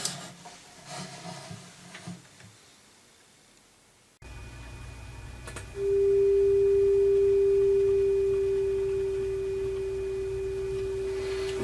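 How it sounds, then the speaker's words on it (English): A steady pure sine tone ringing inside a resonance tube, swelling suddenly louder as it locks onto the resonant pitch, then holding as a loud, sustained hum with faint background hiss. "This is what it sounds like when you hit the resonance."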